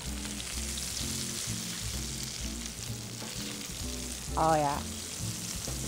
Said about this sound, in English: You cook the cod tongues until you come to a nice golden brown.